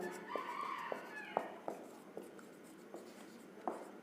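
Chalk or marker writes across a board during a chemistry lecture on coordination compounds, giving faint scratchy strokes and sharp taps at irregular intervals, with a rooster crowing in the distant background.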